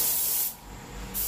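A spray gun lays down a thin coating pass in a short, loud, steady hiss that cuts off partway, leaving a quieter pause before a second burst of spray starts.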